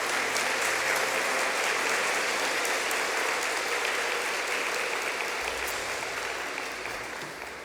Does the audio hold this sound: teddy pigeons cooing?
no